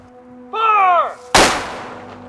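A historic black powder gun fires a single reduced-charge shot outdoors, a sharp loud blast with a rumbling tail, after a brief human shout.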